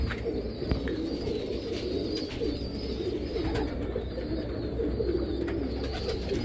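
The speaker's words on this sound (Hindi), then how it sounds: "देख सकते हैं कि ये जोड़ों में से हटे हुए कबूतर हैं।" Teddy pigeons cooing steadily and close by, with soft overlapping coos and a few chirps running throughout with no talk.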